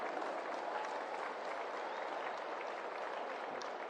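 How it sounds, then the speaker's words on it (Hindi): Applause welcoming Narendra Modi at a cricket stadium during a golden jubilee celebration in Ahmedabad, a faint, distant, continuous roar of crowd clapping with no distinct individual claps. "आइए जोरदार तालियों के साथ स्वागत करते हैं"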